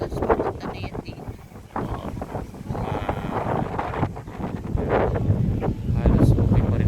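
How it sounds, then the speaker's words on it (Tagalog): Wind gusts buffet the microphone beside the sea near Baclaran, a loud, uneven rumble that rises and falls while people talk throughout. "mahangin pa rin"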